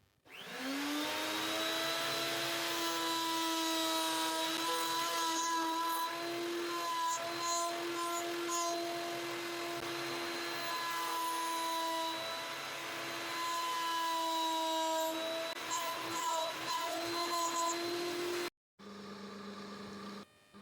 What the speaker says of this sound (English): Here I'm drilling a recess with a Forstner bit.